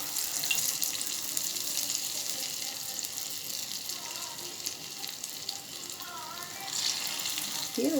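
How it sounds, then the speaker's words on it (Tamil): Medu vada frying in hot oil gives a steady, loud sizzle that runs unbroken throughout, a dense hiss with faint bubbling and no talking. "எண்ணெய் நல்லா சுட்டுட்டு இருக்கு இப்போ நம்ம வடை போட ஆரம்பிச்சிடணும்"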